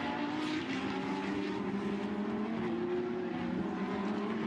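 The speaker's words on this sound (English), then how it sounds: "there in the background is the blue car third, Jeroen Mul." Lamborghini race cars at Misano roar past in a Super Trofeo race, a steady loud engine drone with harmonic whine, continuous and close, no talk.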